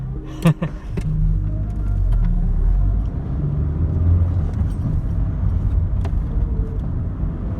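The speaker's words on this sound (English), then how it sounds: "so you can see what it's like riding along in a Mark II Cavalier." Steady low road rumble and engine drone heard from inside a moving Mark II Cavalier car in traffic, with a couple of brief clicks and knocks near the start and a loud, continuous cabin hum throughout.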